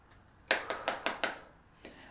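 A small tarot card deck being shuffled by hand, giving a run of five quick crisp riffling taps close by, then a single fainter tap after a short pause.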